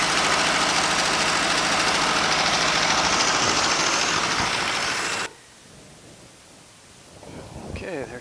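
Ford tractor engine idling with a steady low rumble that holds for about five seconds and then cuts out abruptly, leaving only faint background noise and a slight rise near the end.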